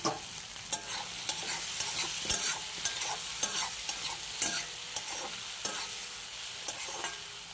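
Potatoes fried and stirred in spiced oil in a pan, with a steady close sizzle broken by repeated scraping stirs at an irregular rhythm, no voices.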